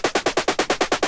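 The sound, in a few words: synthesizer step sequencer pattern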